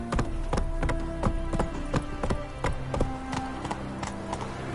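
Horse hooves galloping in The Witcher 3: Wild Hunt, a steady fast clip-clop of repeated thuds running close and loud throughout, with a faint ambient bed behind.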